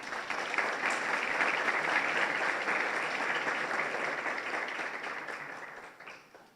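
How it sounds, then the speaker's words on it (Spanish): A lecture audience gives a loud round of applause to welcome a professor, dense, even clapping that holds strongly for several seconds, then tapers off toward the end. "quien con un fuerte aplauso le damos la bienvenida"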